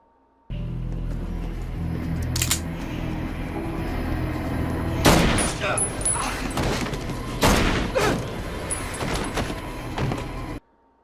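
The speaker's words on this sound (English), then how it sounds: "She shoots them both" Gunshots in a Smallville TV scene, heard as two loud, sharp blasts about five and seven and a half seconds in, with echoing tails over a low rumbling background.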